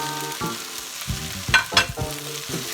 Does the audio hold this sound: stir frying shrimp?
yes